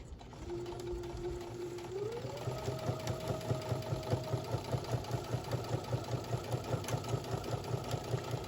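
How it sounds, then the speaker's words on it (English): A sewing machine stitches fabric at a steady, quick rhythmic chatter. The motor whine steps up in pitch early on, and the stitching stays close and even throughout. "I'm going to start sewing all the way down, holding my fabric in place"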